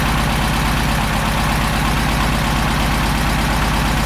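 A warm car engine idles steadily, its low rumble continuous and close for the whole stretch, with no voices over it.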